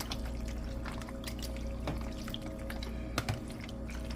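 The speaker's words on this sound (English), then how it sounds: "I'm going to add the rest of the pasta water" Starchy pasta water pouring into a pan of vegan macaroni and cheese, a steady liquid trickle with scattered drips and a couple of louder splashes near the end.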